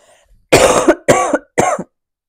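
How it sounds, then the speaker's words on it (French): Three loud, sharp coughs in quick succession, close to the microphone, after a brief quiet moment. "Excusez-moi, si je tousse"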